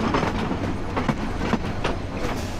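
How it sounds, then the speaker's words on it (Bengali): The Chattala Express, a passenger train in Bangladesh, rolls around a curve with a steady rumble and rhythmic clickety-clack of wheels over rail joints, heard close and continuous. "আর এদিকে হচ্ছে ট্রেন কার্ভ নিয়ে যাচ্ছে"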